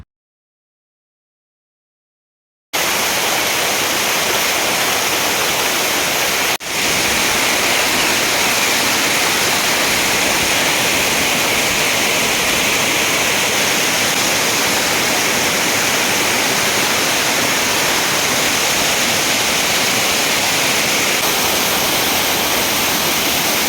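Encanto Falls waterfall in Libmanan roars as a steady, dense, loud wash of falling water, continuous and unbroken after a silent opening, with no voices.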